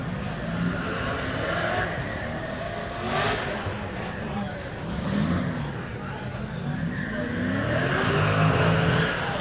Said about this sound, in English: Sounds like they're doing the autocross now.